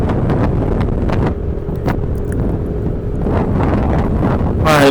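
Strong wind buffets the microphone while riding along a smooth road in West Java, a loud, constant rushing roar throughout with some low rumble and brief clicks.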